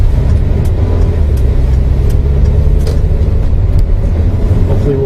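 Steady road rumble and engine noise from a car driving through the Point Siena area of Kissimmee, Florida, recorded from inside by a dashboard camera, continuous and fairly loud with no talking.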